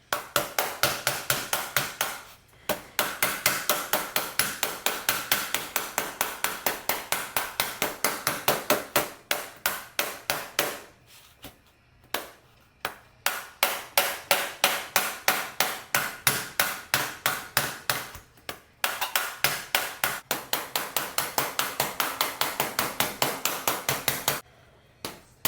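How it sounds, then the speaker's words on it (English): Rapid, steady blows from a door skin hammer ringing on sheet metal, repeated in long bursts with brief pauses between runs, close and loud. "This is a door skin hammer, so it's got nice reach."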